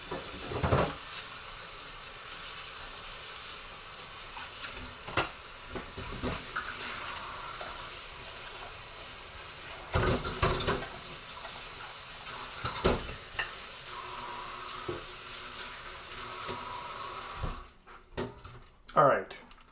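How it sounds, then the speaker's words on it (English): A mini food chopper is rinsed under a running kitchen tap, a steady broadband rush of water with occasional clunks and knocks of plastic parts, cutting off near the end before a few louder handling thumps. "I got to wash the mini chop."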